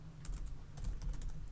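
Computer keyboard keys clatter in quick uneven bursts of close, crisp typing, a password being entered during a beginner PHP coding lesson, with no voices.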